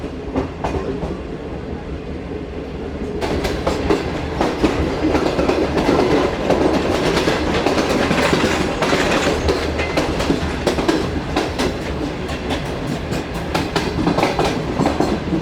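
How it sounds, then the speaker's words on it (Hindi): The Shalimar Express on the Karachi to Lahore line, heard from inside a parlour car, rumbles steadily with continuous rail noise and wheel clatter, growing slightly louder and busier after a few seconds and staying near and constant throughout. "ट्रेन हमारी रुकी हुई है"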